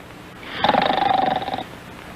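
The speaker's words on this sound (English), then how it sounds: "I know what you sound like when you snore." A person snoring up close, one drawn-out rasping snore with a steady fluttering buzz lasting about a second, loud against a quiet room.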